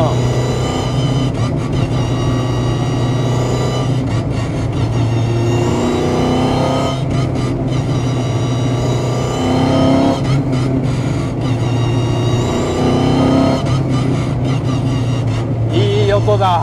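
A loud, close engine of a Toyota sports car with a dog-ring gearbox revs and climbs in pitch, drops at each gear change, and climbs again in repeated surges.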